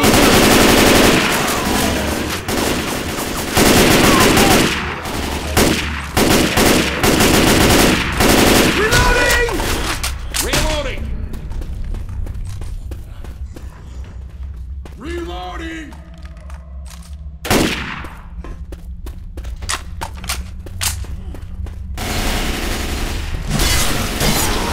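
Rapid bursts of assault rifle fire in Left 4 Dead 2, loud and close, in repeated volleys across most of the stretch with brief pauses, mixed with game noise and character voices talking.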